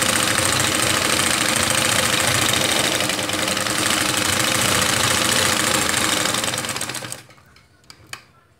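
Close, steady sewing machine stitching along the edge of a camisole, running continuously for about seven seconds before cutting off, followed by a couple of faint clicks in near silence.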